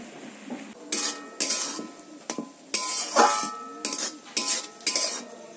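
A coconut and sugar mixture is stirred over low heat in a wok, with repeated loud scraping and clanking strokes of a metal spoon against the pan in an uneven rhythm.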